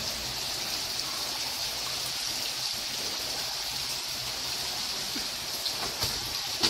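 Water runs steadily from a shower in a swimming pool changing area, a continuous hissing spray heard up close with faint knocks and no talking.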